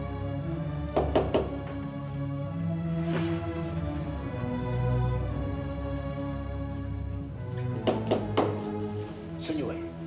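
Heavy knocks on a door in a 1954 drama set in ancient Egypt: several dull thuds in two clusters, heard over background music and speech.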